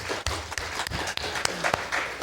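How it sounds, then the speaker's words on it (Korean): Church congregation breaking into applause, a brief burst of scattered, uneven clapping in a hall, close and fairly loud, with a voice faintly under it. "우리 하나님께 감사와 영광의 박수"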